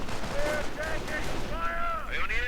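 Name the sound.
rifle fire in video game Company of Heroes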